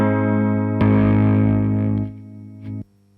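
A heavily distorted electric guitar chord through a Red Witch Lily pedal pushing a valve amp into distortion rings out loud and sustained, then is struck again before fading and cutting off.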